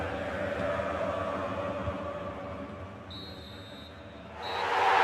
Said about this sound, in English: And that is the final whistle here